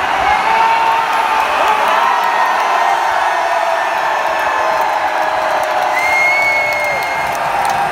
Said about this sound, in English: a sound wave which saw many, many people fall silent and then cheering